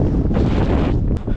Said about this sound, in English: Look, you can tell it's still pretty windy.